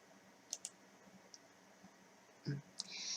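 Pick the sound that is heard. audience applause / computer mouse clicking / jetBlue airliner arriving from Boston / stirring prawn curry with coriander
computer mouse clicking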